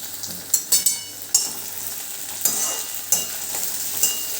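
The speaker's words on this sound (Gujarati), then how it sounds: "એની અંદર હવે આપણે કેપ્સિકમ અને ટામેટું પણ એડ કરી દઈશું, પણ એને આપણે બહુ જ નથી શેકવાનું।" Onion, capsicum and tomato fry in a pan for a churmur roti made from leftover flatbread, giving a steady close sizzle broken by several sharp stirring scrapes, with no talk.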